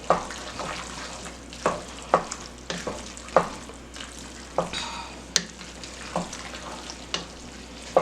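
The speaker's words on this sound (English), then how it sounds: "I have a block of sharp cheddar that I'm just going to start adding in and mixing in." Sharp cheddar cheese being mixed into a pot of goulash, heard as a series of clear, rhythmic scraping and knocking spoon strokes about once a second over a low simmering background, with no talking.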